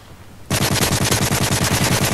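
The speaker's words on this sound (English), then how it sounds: "The MP7, the range on this gun struggles." MP7 submachine gun in a video game: after a brief quiet moment, a loud, rapid automatic burst of evenly spaced shots runs continuously to the end.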